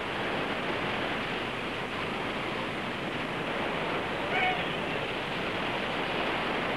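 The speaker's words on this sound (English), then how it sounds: "Hey, look, the waves are up." Ocean waves and surf roar as a steady, dense wash of broadband noise, loud and continuous, with no speech over it.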